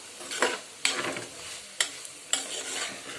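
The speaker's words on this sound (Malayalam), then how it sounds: "ഇതിലേക്ക് ഇപ്പോൾ തേങ്ങ ചിരണ്ടിയത് ഇട്ടിട്ടുണ്ട് ഇനി വീണ്ടും നന്നായിട്ട് ഇളക്കി കൊടുക്കണം" Spatula stirring carrot thoran with freshly grated coconut in a pan, a few sharp scrapes and knocks against the metal spaced through a soft, steady frying sizzle, close and fairly loud with no talking.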